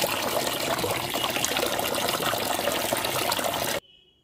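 Beef tripe is rinsed under steady running water, a continuous close splashing and gushing that stops abruptly near the end. No voices are heard.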